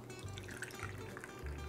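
Water boiled twice and cooled to warm trickles and splashes faintly into a kitchen gadget container, a quiet, continuous pouring sound with small drips.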